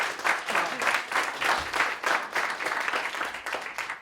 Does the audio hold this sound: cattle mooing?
no